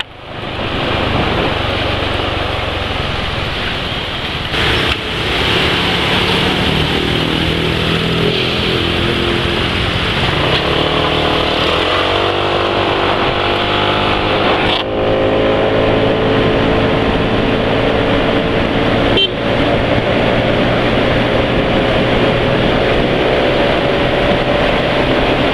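Motorcycle engine revving after an oil change with Petroasia Revol 20W50 oil, a steady loud running drone with rising pitch sweeps as the throttle is opened, heard close and alone.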